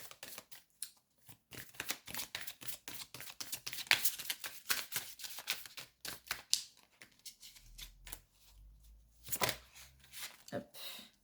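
Tarot cards being shuffled and drawn: a long run of quick, crisp card flicks and slaps close by, thinning into scattered single snaps, with a voice speaking between them.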